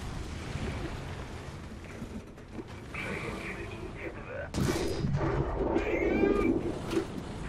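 Pz.Kpfw. III Ausf. N tank cannon in War Thunder firing high-explosive rounds: a sharp, loud blast near the middle, followed by rumbling, mechanical creaks and clanks, over a steady engine drone.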